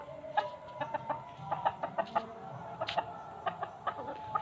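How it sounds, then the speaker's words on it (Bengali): Clucking from a rooster in a home garden near a lychee tree, a series of short clucks in an irregular rhythm, fairly close, with no one talking. "এই দেখো আমাদের মোরগ"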